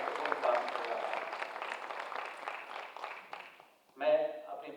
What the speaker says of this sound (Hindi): एनसीसी कैडेट्स के लिए हम लोग सभी तालियां बजा करके उनको धन्यवाद दें